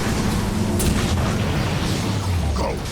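A ship's reactor core exploding in a Transformers battle, heard as a sustained, loud, rumbling roar with deep low-end booms and crackling bursts throughout.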